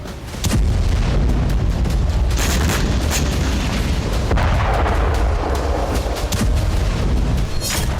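A bomb explosion in the Israel–Hamas conflict rolls out as a deep, sustained boom, a loud, continuous low rumble that lingers for several seconds without pause.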